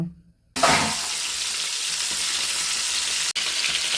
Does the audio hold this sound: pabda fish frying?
yes